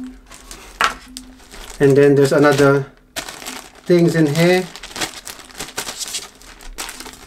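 A plastic bag crinkles during the unboxing of an Enya tenor ukulele, soft rustling bursts close by while someone talks over it.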